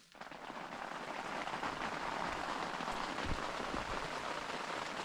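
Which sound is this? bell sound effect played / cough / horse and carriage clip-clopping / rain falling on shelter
rain falling on shelter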